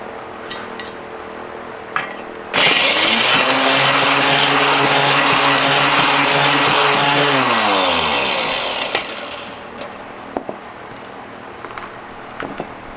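Mighty Mill ore crusher shredding electronic connectors with plastic housings and gold-plated pins: a loud, harsh grinding roar starts abruptly, holds steady with a humming motor tone, then winds down, followed by scattered clinks and rattles.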